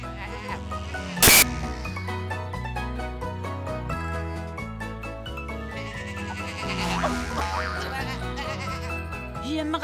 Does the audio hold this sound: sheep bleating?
yes